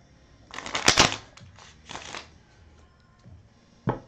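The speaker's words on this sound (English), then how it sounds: "So let me shuffle." A deck of tarot cards is shuffled by hand in several rustling, riffling bursts, close and fairly quiet, with a final short snap of cards at the end and no talking.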